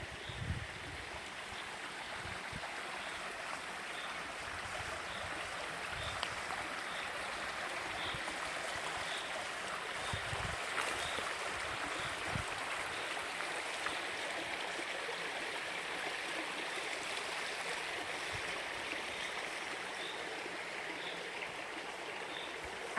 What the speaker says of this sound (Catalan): L'aigua.